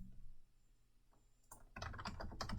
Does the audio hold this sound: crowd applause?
no